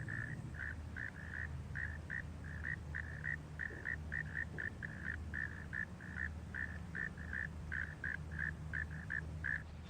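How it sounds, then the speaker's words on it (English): A frog croaks in a rapid, steady series of short calls on a disc golf course, repeating throughout over a low ambient rumble, with no one talking. "I hear frogs."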